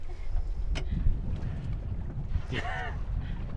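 Wind buffeting a microphone on a small boat out stone crabbing, low rumbling gusts with water and hull noise, plus a brief higher squeak or voice-like cry near the end.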